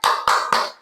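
Three sharp, evenly spaced claps ring out close and loud as a classroom applauds a student, with no talking over them.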